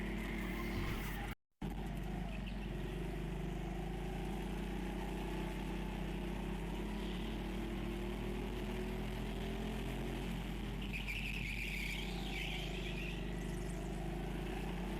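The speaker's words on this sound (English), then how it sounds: "appreciate the sound of these karts and just the racing in general" Steady droning engine noise from small racing karts, a constant loud hum with passing whines rising and fading, no voices.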